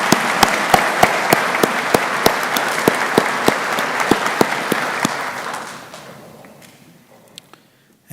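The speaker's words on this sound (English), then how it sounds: "Give her another round of applause." Graduation audience applauding for a speaker at a technical college ceremony for the class of 2023, a loud, steady crowd clapping with sharp individual claps standing out, fading away over the final seconds.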